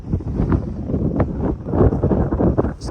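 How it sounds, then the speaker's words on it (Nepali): Gusty wind buffets the microphone at a scenic mountain viewpoint in Nepal, a continuous low rumbling roar that swells and dips in uneven pulses. "यस्तो हावा लाउँछ"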